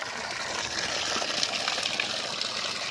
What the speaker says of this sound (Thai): น้ำไหล ดีมากนะครับ